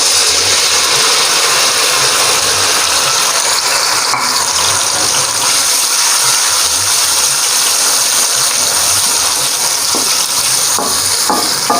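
Ginger garlic paste hits a hot pan already browning ginger and garlic for aloo gobi gravy, setting off a loud, continuous sizzle with occasional stirring scrapes, close and without talk.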